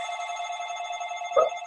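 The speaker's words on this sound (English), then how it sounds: "phone's ringing." A telephone rings with a steady, continuous electronic warble that sounds close and clear, ending in a short louder click near the finish.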